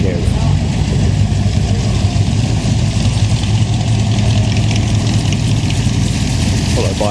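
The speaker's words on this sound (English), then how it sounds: "And a big Chev." A big Chevrolet car idles loudly and close at a coffee and cars meet, a steady throbbing engine rumble running the whole time with people talking over it.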